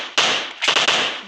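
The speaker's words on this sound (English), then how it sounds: "That's shotgun." Two sharp, loud shotgun blasts from the video game PUBG, each a sudden crack with a short fading tail, the second following about half a second after the first.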